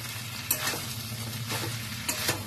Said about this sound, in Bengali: সেদ্ধ করে রাখা চালগুলো এর মধ্যে দিয়ে দেবো।